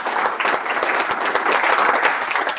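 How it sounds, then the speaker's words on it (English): Loud, dense applause from an awards ceremony audience honoring semifinalists, a steady wash of many hands clapping close by for nearly three seconds. "So again, I'm going to ask for a round of applause for the four semifinalists."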